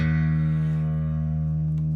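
A sustained electric guitar note run through effects rings out loud and alone for about two seconds, thick and steady with a rich body, reverb and echo, fading only slightly.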